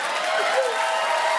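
A studio audience at a comedy talk show claps and murmurs, a continuous close wash of applause lasting only a moment.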